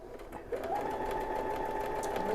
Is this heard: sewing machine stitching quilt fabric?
yes